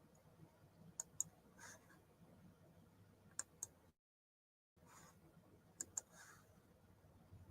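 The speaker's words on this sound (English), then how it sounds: "Let's type it in." Clicking on a computer keyboard in a quiet room: a few sparse, sharp keystrokes in small clusters, with a brief silent gap in the middle, fairly faint and with no talking.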